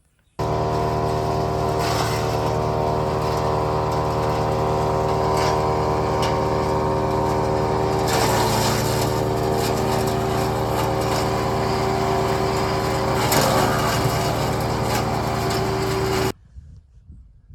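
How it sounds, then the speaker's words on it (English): A new wood chipper runs steadily at close range with a constant engine drone, chewing through freshly pruned fruit tree branches that bring brief louder surges as pieces feed in, then the machine cuts off at the end. "that was an awesome exercise of wood chipping. We put through some new stuff that we just pruned off the fruit trees"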